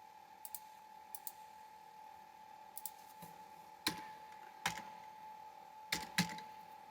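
Numbers are entered on a computer keyboard, with around a dozen faint, sparse key clicks, some in quick pairs and a few louder presses, over a quiet steady hum.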